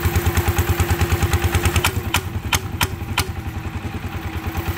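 A modified Thai itaen farm vehicle engine runs close by with a loud, rough, rhythmic pulsing throb, a few sharp metallic clacks rising over it midway.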